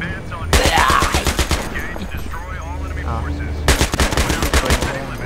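Rapid machine gun bursts in the Battlefield 3 Thunder Run mission, loud and close, with a sustained burst at the start and another near the end, and someone talking excitedly throughout.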